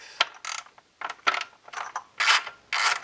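A hand ratchet clicks in short, rapid bursts while loosening Torx bolts on the idle air control valve of a BMW E46, each burst a close, crisp run of pawl clicks separated by brief pauses.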